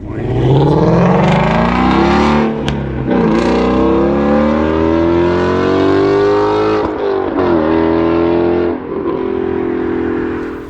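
A car exhaust with the resonator deleted revs repeatedly up and down, each pull climbing to a loud, raspy howl before falling back. It sounds close and sustained for about ten seconds, with no talk over it.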